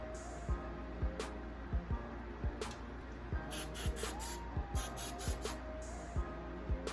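Several quick hissing bursts of hairspray sprayed onto hair, close and fairly soft, fired in a loose rhythm with short gaps between them.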